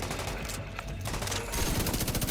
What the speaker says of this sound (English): Taking care of these guys, shooting down their turrets and things.